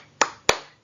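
Two sharp claps about a quarter second apart from students doing a rhythmic concentration clap in a classroom during a decimal division lesson, crisp and close with short room decay.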